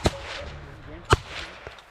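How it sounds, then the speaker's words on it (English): Two sharp rifle shots are fired at a bear during an Alaska bear hunt. They are loud and close, about a second apart, over outdoor background noise. "Okay, shoot this bear."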